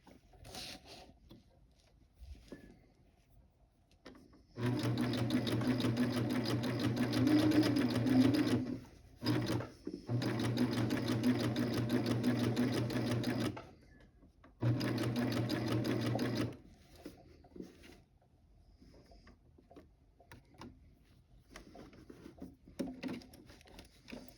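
A serger cover stitching the bottom hem of a heavy white blouse runs in three steady bursts of rapid, even mechanical stitching, with pauses and faint handling noises between them and no talking.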